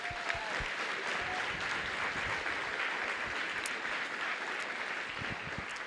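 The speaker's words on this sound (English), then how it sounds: "Let's give them a round of applause" A church congregation applauds the lead team during a Sunday service with sustained, even clapping from a large crowd, heard at a steady, fairly soft level throughout.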